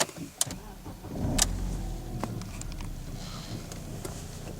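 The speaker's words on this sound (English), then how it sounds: "Okay, so we're going to start the engine now, see what happens on this vehicle." A BMW engine starting up: a brief crank with a few clunks and clicks, then a steady low idle hum that carries on close by.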